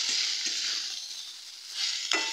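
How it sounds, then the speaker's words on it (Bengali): Boiled chow mein stirred into vegetables in a kadai over a medium flame, a steady sizzle with soft scraping strokes and a sharper clink near the end, no talking. "এবারে যে চাউমিনটা সেদ্ধ করে রেখেছিলাম সেটা আমি দিয়ে দিচ্ছি এর মধ্যে, অল্প অল্প করে দেব আর নাড়তে থাকবে।"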